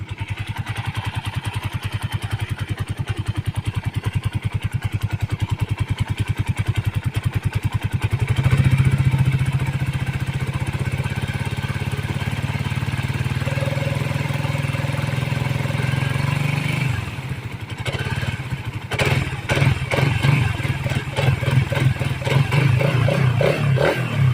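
A used Suzuki Satria motorcycle engine runs steadily at idle with a low rumbling putter, close by, shifting pitch and turning choppier near the end.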